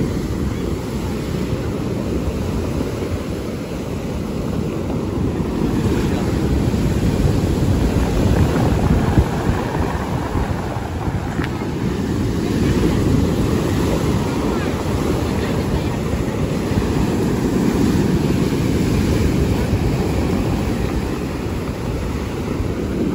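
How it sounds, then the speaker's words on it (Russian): Stormy sea surf at a Volkonka beach, a steady broad roar of churning waves that swells and eases over the whole stretch, loud and close, with wind buffeting the microphone throughout. "и штормит сильно"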